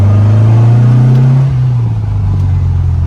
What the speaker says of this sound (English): So here's second gear pull.